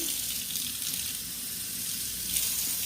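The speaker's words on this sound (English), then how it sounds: "I am just going to fill it with some water" Tap water runs steadily into a spray bottle for a homemade garden spray, a continuous close hiss and splash with no talking.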